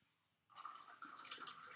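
Lemon soda poured into a homemade mint julep cocktail with cream, starting suddenly and continuing as a soft, steady fizzing and bubbling, close up.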